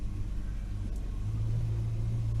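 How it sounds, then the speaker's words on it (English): A Holden HK Premier wagon is driven out of a shed at low speed, its engine giving a steady, close, deep rumble with no voices. "let's get the car out of the shed for a start"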